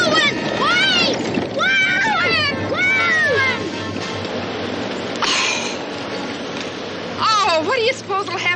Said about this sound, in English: That old black cat, Ma.